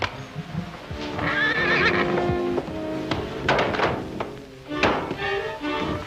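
A horse neighs and whinnies loudly, with snorts and a few dull thuds of hooves or tack close by, in a 1937 western film.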